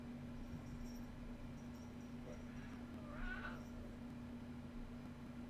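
Kitten meowing: one short, faint mew around the middle, distant and under a steady electrical hum and low background noise.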